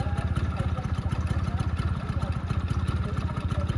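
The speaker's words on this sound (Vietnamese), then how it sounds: "Con xe mình đang nổ máy anh em." A Suzuki RC 50cc two-stroke motorcycle idles close by, its engine putting out a steady, rapid low putter with a faint clattery edge, running alone without pause.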